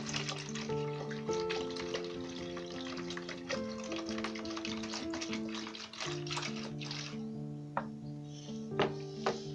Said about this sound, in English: you now add your water and pour gently into the solution